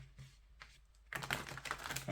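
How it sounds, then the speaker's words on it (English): Tarot cards shuffling in a pick-a-card reading: a few soft taps at first, then a brisk, close run of riffling clicks that grows louder toward the end, with no talking. "And just one more shuffle"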